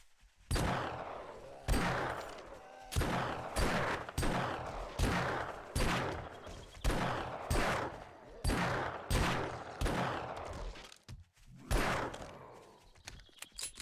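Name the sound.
gunfire from a weapon in the video game 7 Days to Die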